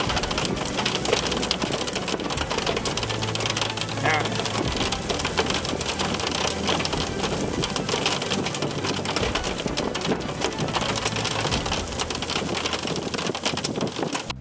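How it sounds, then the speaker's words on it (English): A storm near a tornado-producing supercell in New Mexico brings steady rain pelting down with gusty wind buffeting the microphone, a continuous loud roar throughout with a faint voice briefly under it. "There's wind and rain pelting me."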